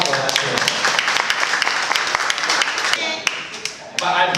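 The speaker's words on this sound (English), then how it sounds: "Big applause for that." Applause from an audience at a club social and farewell night at Vogue Club in Brickfields, a dense burst of clapping with scattered sharper claps, fading briefly near the end before picking up again.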